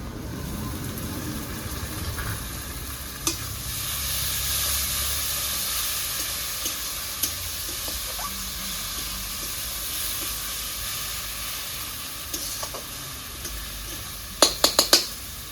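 Chopped onions and ginger-garlic paste sizzle in a pan as a steady, close frying hiss, with occasional stirring taps and a few sharp clinks near the end.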